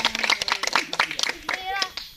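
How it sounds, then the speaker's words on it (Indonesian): Children in an outdoor nature-education session clap their hands in a quick, uneven burst, with kids' voices chattering and calling out over and between the claps. "tepuk tangan"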